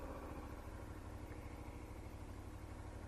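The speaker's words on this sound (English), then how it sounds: "bike has got a great sound to it too." A KTM 1190 Adventure R motorcycle engine idles on its stock exhaust, a steady close rumble holding an even, low throb throughout.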